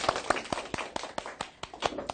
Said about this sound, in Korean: 박수로 시작해보죠